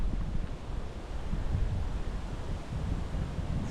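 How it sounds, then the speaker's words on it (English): Wind gusts on a hilltop walk in Yorkshire, buffeting the microphone with a constant loud, rough roar that rises and falls slightly, with no talking. "Hope you can hear me over the wind."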